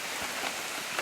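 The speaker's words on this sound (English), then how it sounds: "Still raining, is it?" Rain falls on the Illingbar forest walking track in South East Queensland, a brief, steady soft patter spread evenly with a couple of slightly louder drops.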